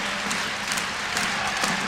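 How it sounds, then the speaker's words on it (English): A volleyball crowd of about 1,200 in an arena, on its feet at game point, makes a dense continuous roar of cheering and clapping, steady and moderately loud throughout. "Now the crowd's live. Now the crowd's in the house. First time they've been up on their feet all night."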